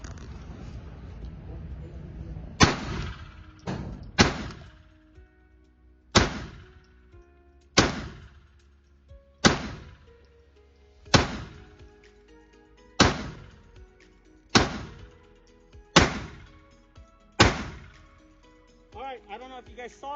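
Taurus TX22 .22 pistol with its compensator removed, fired nine times in a slow, regular series of sharp, loud cracks, each ringing out briefly before the next, with a short pause after the first shot.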